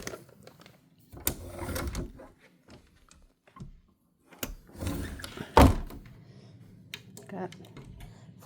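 A double closet door with built-in shelving in a house is handled, with several wooden thunks and knocks, one sharp bang near the middle, and scattered rattles of items between quieter stretches.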